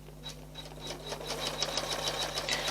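An embroidery machine stitches a single line through fabric and batting on a mug rug, making a quiet, rapid, even chatter of needle strokes above a low steady motor hum.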